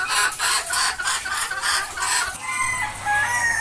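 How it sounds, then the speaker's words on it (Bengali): Native country chickens and roosters on a small farm cluck steadily in a rhythmic, close chorus, with a few sharper calls breaking through near the end. "মোরগ মুরগি আলাদা আছে"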